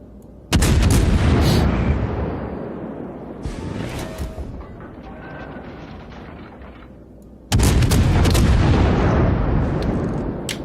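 Heavy warship broadside gunfire in the naval game World of Warships, two loud booming salvos with long rumbling tails, a fainter distant blast between them.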